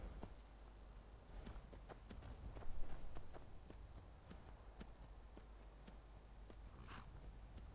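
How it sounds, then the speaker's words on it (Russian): Horse hooves clip-clop in the Skyrim video game near Whiterun, a steady series of light, evenly spaced hoofbeats over a low background hum, heard alone and at moderate distance. "Так, как я могу оставить тут лошадь?"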